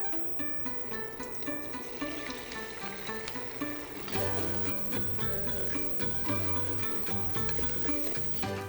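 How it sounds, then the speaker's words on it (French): Eggs fry in a little oil in a wok or large pan, a continuous crackling sizzle that grows louder and busier partway through, with some clinking, heard close up without speech. "Dans une grande poêle ou dans un wok, on va verser un petit peu d'huile puis on va faire cuire les œufs."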